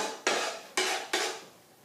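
Seasoned farm produce is mixed in a bowl, giving three separate scraping, clattering strokes, each sharp at the start and then fading. The strokes are close and moderately quiet, with no talking.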